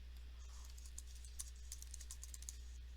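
A username is typed on a computer keyboard, with a quick, uneven run of light key clicks over a steady low hum, faint and close, with no talking.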